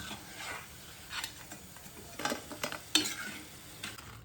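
Raw banana slices crisply frying in hot oil, a steady bubbling sizzle with a few sharper crackles and stirring scrapes, close and alone with no talk.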